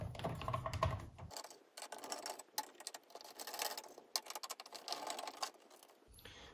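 Screws are worked loose from a computer's logic board during a floppy drive replacement, a quiet, close run of rapid clicking and ticking with short pauses and no talk.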